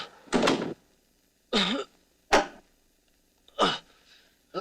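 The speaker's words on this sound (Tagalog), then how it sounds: "Sarado yung pinto." A door is closed several times in a quiet room, four separate solid thuds spaced about a second apart, fairly close and alone with no voices.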